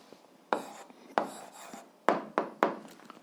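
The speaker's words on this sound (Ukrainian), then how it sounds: "Записуємо відповідь." Pen writing out an answer to an 8th-grade algebra exercise, several distinct scratchy strokes in short bursts with quiet gaps between, close and clear with no talking.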